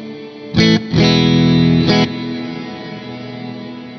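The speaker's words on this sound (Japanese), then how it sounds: "この辺になると、やっぱストライモンならではのね、クリアなリバーブですよね" Guitar through a Strymon Cloudburst reverb pedal: three sharp strummed chord hits in quick succession, each blooming into a long, clear, shimmering reverb tail that fades slowly into quiet.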